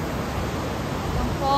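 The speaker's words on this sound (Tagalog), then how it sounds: "Nasa gitna na po tayo ng falls, mga ka-people." Montmorency Falls roars as a dense, steady rush of falling water, loud and broadband with no let-up, while a bit of talk may sit underneath.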